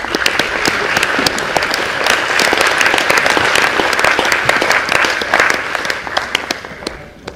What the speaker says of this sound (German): Bitte schön, Applaus bitte.